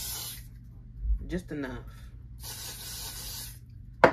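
Spray bursts onto a lace front wig during knot bleaching, two short hissing sprays separated by a brief spoken phrase, ending with a small sharp tap.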